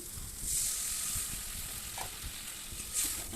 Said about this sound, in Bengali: ভালো করে পেঁয়াজটা এদিকে ভাজা হচ্ছে